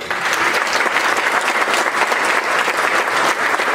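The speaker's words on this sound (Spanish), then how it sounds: "a quien recibimos con un fuerte aplauso" Warm, steady applause from an audience welcoming the author Luis de Guadalupe Martínez Ramírez at a book event, dense clapping continuing evenly throughout without pause.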